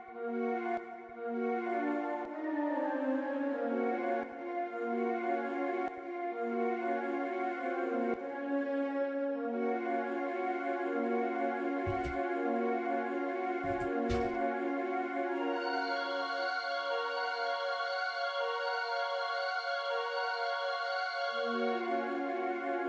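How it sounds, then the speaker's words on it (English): A dark, half-step melody on the Nexus Ambient Pad 5 synth pad, made in FL Studio, slowly shifts between rich sustained chords with a few soft percussive hits midway and a brighter shimmer toward the end, with no voices. "We are literally gonna take the pad that's called Ambient Pad 5."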